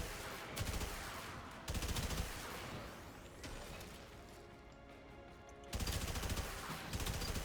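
Rapid bursts of energy weapon fire in a video game, loud repeated volleys with short pauses between salvos, mostly alone with little talk.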